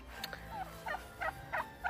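A bronze turkey gobbles while displaying in a rapid series of short, warbling calls, about five bursts in quick rhythm over a low rumbling background, fairly faint.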